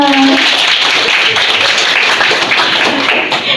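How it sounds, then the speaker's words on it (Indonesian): Nursing students in a classroom session burst into loud, dense applause, a continuous crackle of clapping hands lasting a few seconds. "Tuh. Tepuk tangan."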